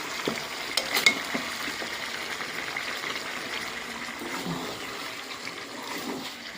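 Chicken pieces and potatoes sautéing in oil in a pan give a steady, moderate sizzle with occasional stirring scrapes throughout.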